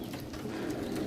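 Pigeons on a rooftop coo softly in low, rolling murmurs, a near and continuous purring sound that holds steady throughout.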